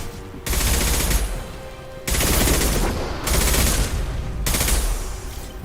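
Sustained automatic gunfire comes in the Mass Effect 2 video game, loud bursts of rapid fire lasting a second or more each with short gaps between, and no talk over it.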